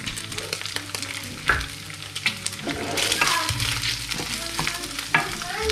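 Garlic sizzling in hot oil in a home kitchen, with a steady frying hiss broken by scraping stirs and occasional louder spatters throughout.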